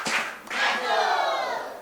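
Students cheer and clap for a contestant at an upper-primary school maths quiz, a loud burst of crowd noise with shouting that dips briefly and then swells again, sustained to the end.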